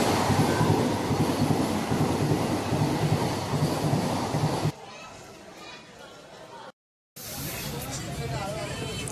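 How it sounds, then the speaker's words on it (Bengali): A train rumbles loudly past a busy station platform with clattering wheels, the roar dropping abruptly partway through before noisy station ambience returns. "একটার পর একটা ট্রেন চলে যাচ্ছিল"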